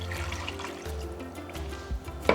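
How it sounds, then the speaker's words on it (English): Water pours steadily into a deep sauté pan holding dry fettuccine on the stove, a continuous close gushing with a brief louder splash near the end. "we're going to add our water to this"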